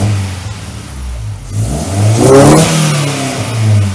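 A Honda Civic engine cranks to life and revs, the loud mid-pitched roar swelling after about a second and a half of quieter rumble, then settling into a steady idle, with no talk over it.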